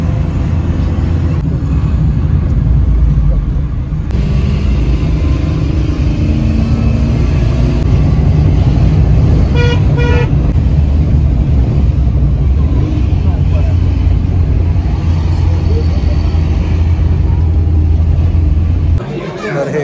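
A steady low engine rumble and road noise from inside a moving Maruti Eco van on the way to Matheran continue throughout, with people talking over it.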